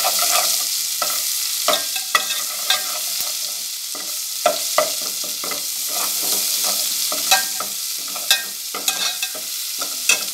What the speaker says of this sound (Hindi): इसको हम फ्राई करेंगे।